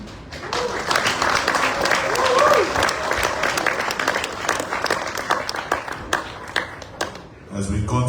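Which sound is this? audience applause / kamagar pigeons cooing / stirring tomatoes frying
audience applause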